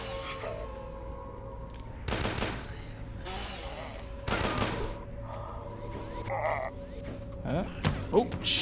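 Gunfire in the retro shooter game Dusk, several loud broadband bursts with rapid volleys near the middle and end, over a low droning game ambience.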